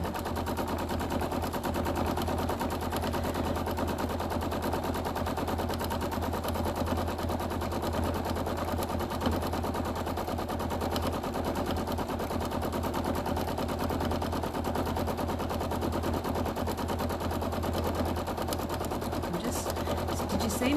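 A sewing machine runs steadily for the whole stretch, stitching down quilt fabric, a continuous close mechanical whir with a faint rapid needle rhythm and no pauses.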